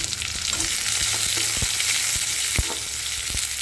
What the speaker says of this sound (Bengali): এর মধ্যে দিয়ে দিচ্ছি এবার ঝিমিঝিমি করে একটা কেটে রাখা পেঁয়াজ